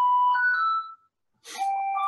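A two-tone electronic doorbell chime rings at a home, a clear descending ding-dong followed after a brief silence by a second ring with a harsh rasp, close and fairly loud with no voices.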